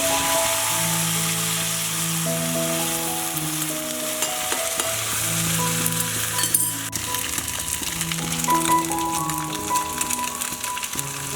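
Steady sizzling and crackling of small mourola fish frying in oil, continuous and close, with a musical melody playing over it.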